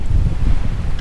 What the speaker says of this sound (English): Wind makes it really tough.